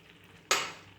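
Carrot halwa with cardamom powder and dry fruits stirred in a pan gives a sudden burst of sizzle and scraping about halfway through, then fades quickly after a quiet start.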